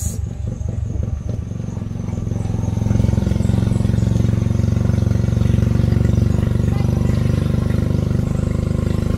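Motorbikes and tricycles rumble through traffic in Talisay City, a near engine clattering loudly and steadily, rising in strength after a few seconds, with no talk.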